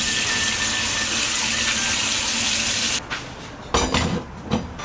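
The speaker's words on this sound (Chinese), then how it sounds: "加适量清水" Water pours into a cooking pot holding thin slices of spring bamboo shoot in a loud, steady splashing stream for about three seconds, then cuts off, followed by a few light metallic knocks of the pot.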